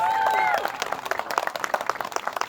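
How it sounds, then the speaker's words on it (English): Wedding guests break into applause for the planners, a crowd's rapid scattered clapping that swells after a brief moment of talk and keeps going steadily to the end. "I think that's deserved of rounds of applause."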